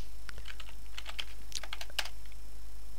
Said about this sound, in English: you can type slash T space